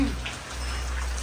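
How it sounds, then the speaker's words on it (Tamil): Heavy rain pours down with a dense, continuous patter of raindrops hitting surfaces, loud and close, with no pause. "சரியான மழை பெய்யுது"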